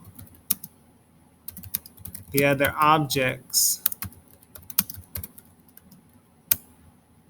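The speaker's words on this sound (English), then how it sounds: "Sorry, I'm typing fast" Scattered keyboard clicks tap intermittently, sparse and fairly close, with a brief stretch of a voice talking in the middle.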